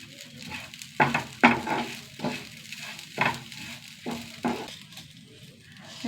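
Dried red chillies, cumin, coriander, dals, coconut, curry leaves and fenugreek dry-roast in a pan over a low flame, a faint sizzle broken by about eight sharp, scraping stirs at irregular intervals.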